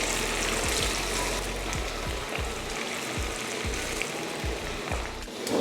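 Chicken pakoda pieces frying in hot oil for a crispy street-style batch, a steady dense bubbling sizzle with repeated low thumps as pieces are dropped in or stirred, close and continuous with no talking.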